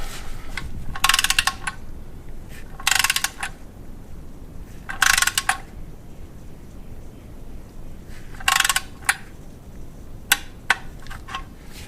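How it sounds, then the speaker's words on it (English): A torque wrench tightens the 19 mm oil drain bolt on a 2016-2018 VW Jetta 1.4L, giving several quick bursts of close, crisp ratchet clicking separated by pauses, ending with a few single clicks. "we set our torque wrench to 22 foot-pounds. Again, that's 30 Newton meters if you're across the pond. And I'm going to torque that down."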